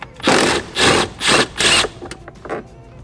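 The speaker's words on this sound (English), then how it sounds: "Now we're going to switch over to our 10mm and remove this bolt right here." A 10 mm wrench or socket works a bolt loose during a door release install on a 2015-2024 S550/S650 Mustang, giving four evenly spaced loud scraping ratchet strokes followed by a few fainter clicks, close up with no talk.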